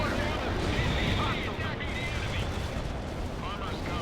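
Heavy tank cannon fire and explosions in the real-time strategy game World in Conflict, a dense, loud barrage of booms that rolls on without pause, with battlefield radio chatter mixed in underneath.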